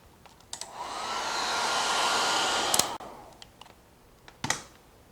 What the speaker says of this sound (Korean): 드라이기로 말려주세요